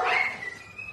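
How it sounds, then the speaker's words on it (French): Dogs at a pound yelp and whine in a brief, tense scuffle during feeding time, the sound heard from a short distance. "vous allez entendre sur la vidéo les chiens derrière qui sont en train de se battre"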